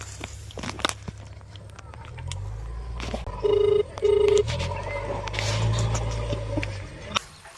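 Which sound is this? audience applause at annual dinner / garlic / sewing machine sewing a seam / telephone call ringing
telephone call ringing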